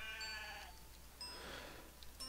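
Goat bleating in the game Aveyond: Lord of Twilight in Brightwood Forest, a couple of quavering bleats in quick succession, faint but clear against a quiet background.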